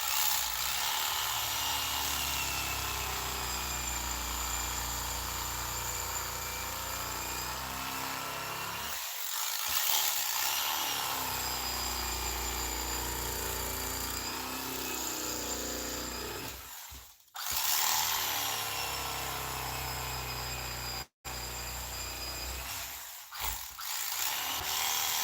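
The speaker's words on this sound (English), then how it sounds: "My bandsaw's old and it's kind of raggedy, but it does work" An old, worn bandsaw cuts an ATV seat part with a loud, steady mechanical whine and rumble, broken by a few short pauses and drops in pitch as the blade bites.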